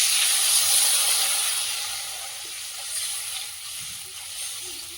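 Water poured into a hot pan of Bengali fish curry: a loud, bright steam hiss and sizzle that is strongest at first and then slowly dies down, with no talking.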